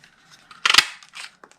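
Scissors snip through paper scraps while shaping a snowman's hat for a gift pouch, giving a short cluster of crisp cuts with one loud central snip and a few quieter clips after it.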